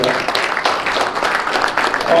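An audience at a Laitse rally event applauds, a brief patter of clapping mixed with a speaker's voice over the top.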